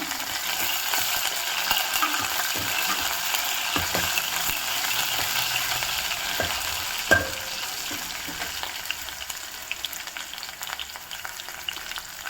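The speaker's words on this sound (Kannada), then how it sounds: "ಹಾಗೆ ಜಜ್ಜಿಟ್ಕೊಂಡಿರೋಂಥ ಬೆಳ್ಳುಳ್ಳಿ ಹಾಕ್ಕೊತಾ ಇದ್ದೀನಿ" Crushed garlic frying in hot oil in a pan for Andhra-style pappu charu, giving a continuous bright sizzle with occasional scraping clicks from stirring, steady and close with no voices.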